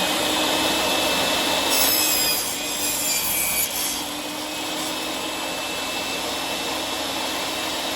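A Metabo TS 254 M 1500W table circular saw cuts through wood with a steady, loud whine and rough rasping, ending in an even hum as the blade runs free.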